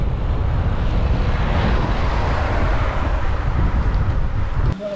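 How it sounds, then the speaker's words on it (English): Strong wind roars steadily into the microphone on a fast cycling descent with a tailwind across hilly Portuguese countryside, a loud continuous buffeting rush that stays constant throughout and cuts off abruptly at the very end. "I don't know if you can tell how windy it is."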